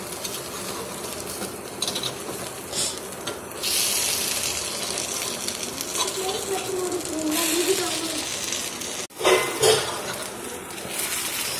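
Kuzhi paniyaram being turned over in their hollows of a pan with a utensil, giving light metallic scrapes and clinks over steady sizzling, with one sharper clatter near the end; no talking over it.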